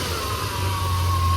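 A 1976 Dodge Coronet CHP cop car with a 440 engine idles close by, a steady loud rumble with a faint whine and a slight rise toward the end.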